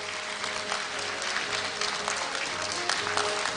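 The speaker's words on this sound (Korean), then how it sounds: "축하 박수 부탁드립니다" Steady applause from a large audience fills a university degree-conferral ceremony hall, continuous and even throughout, with no speech over it.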